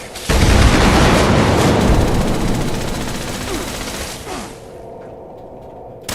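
A video game firefight erupts with dense, loud bursts of rapid gunfire and booming explosions that roll on continuously for several seconds before tapering into quieter rumbles.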